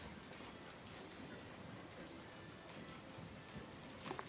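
A ridden horse's hooves clip-clop faintly and steadily at a distance, soft and muffled with a couple of sharper knocks near the end.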